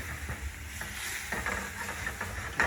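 Shrimp risotto with stock and two added tomatoes being stirred in a pan, giving a soft bubbling sizzle with intermittent scraping strokes of the spoon, close and steady, with no talking.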